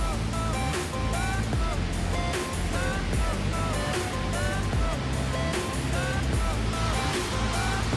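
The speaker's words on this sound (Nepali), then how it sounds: "खोला निकै ठुलै भएको रहेछ है।" Swollen river rushing after water was released from a dam, a loud, dense, continuous roar of flowing water that fills the whole clip with no breaks.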